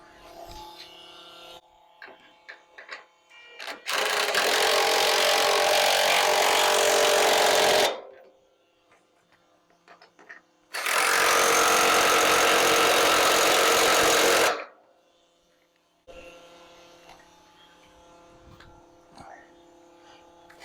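Power tool tightening fuel tank straps on a truck: two long, loud, steady whirring bursts of about four seconds each, separated by quieter pauses with handling noises.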